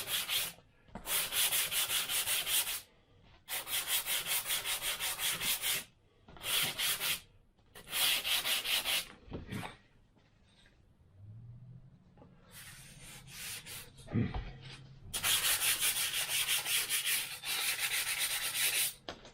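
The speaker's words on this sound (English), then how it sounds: "Now I want to sand it down completely off." Hand sanding a strip on the tail of a BD5 kit aircraft: close, raspy strokes come in repeated bursts separated by brief pauses and faint handling noises.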